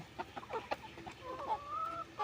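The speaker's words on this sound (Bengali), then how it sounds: "ভিডিওতে দেখছেন এগুলো সবগুলোই অরিজিনাল টাইগার মুরগি।" Tiger breed chickens on a farm clucking in short, irregular calls with a few longer tonal notes, moderately close and fairly quiet, with no one talking.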